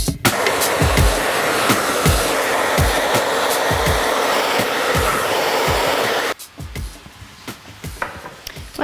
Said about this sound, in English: Blow drying this type of style because they're going shorter at the front.